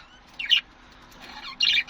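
Two short bursts of sharp, high budgerigar chirps from a pair of budgerigars, close by, separated by a brief quiet gap.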